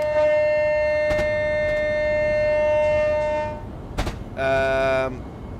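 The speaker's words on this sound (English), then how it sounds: "I feel like that train just passed, needs to slow down." A train rushes past at speed on a high-speed route in Train Simulator, with a long steady horn-like tone, a loud whoosh and a final chord-like horn blast near the end. A voice talks briefly underneath.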